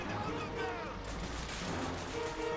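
Gunfire and booming explosions from the World War II shooter game Call of Duty: Finest Hour, dense overlapping shots heard alongside someone talking over the game.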